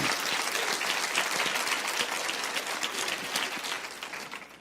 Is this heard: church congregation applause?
yes